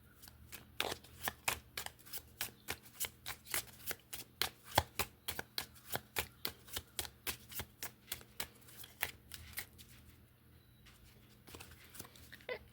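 Gypsy Witch fortune-telling cards riffle-shuffled and bridged for a reading, about two dozen quick, close, crisp flutters in a steady rhythm, then quieter handling of the deck near the end.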